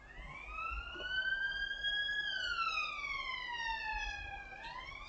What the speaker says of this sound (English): It's been relatively light on the sirens today.